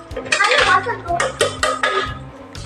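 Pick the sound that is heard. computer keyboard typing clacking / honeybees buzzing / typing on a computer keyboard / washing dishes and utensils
washing dishes and utensils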